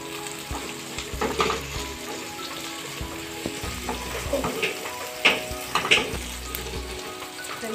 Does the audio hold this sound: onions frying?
yes